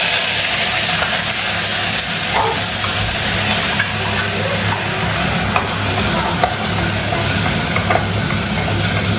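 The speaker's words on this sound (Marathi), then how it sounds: "आता आपण कडीपत्ताची फोडणी" Curry leaves sizzle loudly in hot oil, a steady crackling hiss with small pops throughout.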